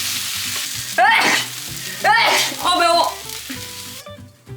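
Tteokbokki sauce sizzles and scorches in an oil-slicked pan, a steady frying hiss swelling with louder bursts as it is stirred, while a person speaks briefly over it.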